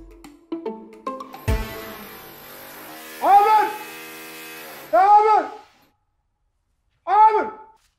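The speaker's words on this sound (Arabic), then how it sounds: "وش هالصوت؟ دريل" An electric drill bores through a wall to run a water line for a water cooler. It whines in short revving bursts that rise and fall, three of them spaced apart after some clunks and a steady hum.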